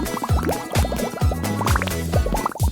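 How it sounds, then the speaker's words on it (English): Water pours and drips into a DIY candy sushi kit, a busy run of bubbly plinks and gurgles close up, rhythmic and continuous with no talking. "Just add water."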